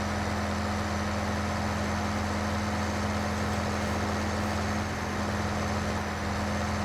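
Tractor engine droning steadily while driving in the Farming Simulator 15 game, a constant low hum with a fixed tonal note and no breaks or talking.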